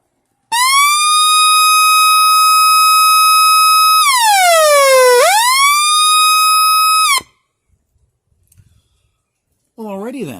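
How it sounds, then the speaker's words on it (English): Anti-theft alarm siren on a vintage 1980s boombox, a loud steady electronic tone that holds, sweeps down and back up, then cuts off abruptly, followed by near silence and a brief rising chirp at the end. "Let me just try one more time to see if I can get the alarm to work."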